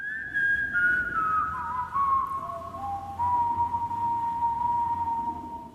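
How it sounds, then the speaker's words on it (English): A whistled melody closes a song, clear sustained whistling notes that glide downward over a soft low backing, prominent and alone without voices. "the cherry on top of this song is how it ends with that whistle sound."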